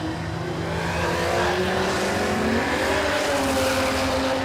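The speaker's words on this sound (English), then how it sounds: "You can hear those budget tyres out there." Drag racing cars at a no-prep dragstrip spinning cheap budget radial tyres, with a Barra engine among them; a steady, loud wash of engine roar and tyre noise with rising revving tones, heard alone without talk.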